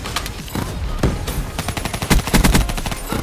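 Gunfire fills a Black Ops 3 multiplayer match in rapid, loud bursts of shots. The firing is dense and goes on without a break for a few seconds.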